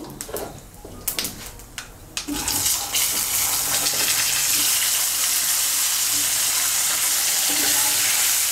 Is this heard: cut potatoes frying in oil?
yes